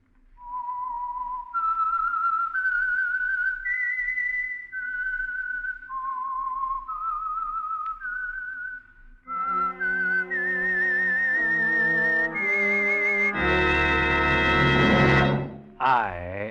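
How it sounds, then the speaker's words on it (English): A signature whistled melody for the Signal Oil radio program The Whistler: a lone whistler carries a slow tune of sustained notes, then a full orchestra swells in loudly underneath and takes over at the end, with no talking. "the signal to listen for is this whistle that identifies the Signal Oil program"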